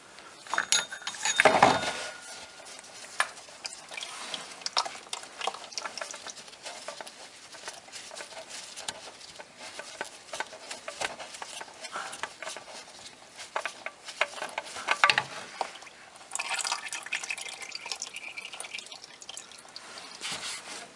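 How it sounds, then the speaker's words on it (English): Engine oil draining from a 2007 Toyota Prius into a pan, a steady close patter and trickle of liquid with scattered drips and small metallic clinks throughout. "expect a big flush of oil"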